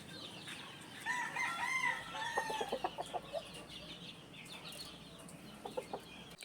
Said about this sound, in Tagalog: Pinagsama naman sa multipurpose pen ni J. Fern yung isa naming broodcock at broodhen